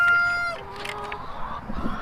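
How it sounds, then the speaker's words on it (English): A cockerel crows with a clear held call, then clucks and mutters in short, close bursts over low background noise. "Cocoa Puff's talking up a storm this morning, isn't he"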